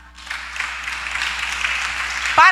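Congregation applause at a church service, a steady broadband wash of clapping over two seconds that ends with a voice starting up.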